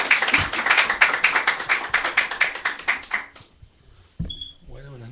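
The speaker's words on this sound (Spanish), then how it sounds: "un aplauso para ellos" Audience applause at the close of a Bible class on the four Gospels, Luke, a dense burst of clapping for about three seconds that fades out, followed by a short pause and then a voice speaking.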